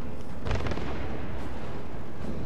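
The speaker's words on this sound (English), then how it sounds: "let's put some torps down there" Torpedoes launch from a warship in World of Warships, with a couple of heavy booming thumps near the start over a constant low rumble of engine and sea noise.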